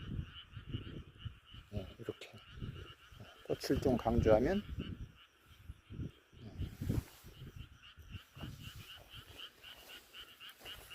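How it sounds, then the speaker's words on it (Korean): Frogs croak in a continuous chorus at moderate distance during an evening sunset walk, with a voice speaking briefly over them. "개구리 우는 소리도 아주 정겹게 들리죠."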